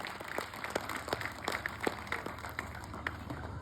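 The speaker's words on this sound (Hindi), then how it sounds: "उसके सम्मान में तालियां बजना चाहिए साहब" Scattered hand clapping from an audience at an open-air poetry gathering (kavi sammelan) in Jhabua, faint and irregular with sparse individual claps over a low background hum.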